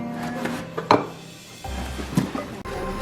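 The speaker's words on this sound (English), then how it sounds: "Saucepan. A saucepan." A new saucepan from a cookware set is handled up close, giving a few light knocks and a sharper clank among soft rubbing and rustling.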